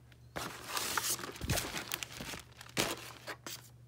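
Free cellophane packaging handled close up, crinkling and rustling in continuous crackly bursts that swell and fade, with a low steady hum underneath.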